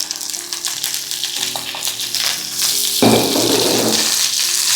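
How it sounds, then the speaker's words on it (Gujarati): Okra dropped into hot oil already crackling with mustard seeds and cumin, bursting into a loud, steady sizzle about three seconds in, close and continuous with no talking. "તરત જ આપણે નાખી દઈશું ભીંડો."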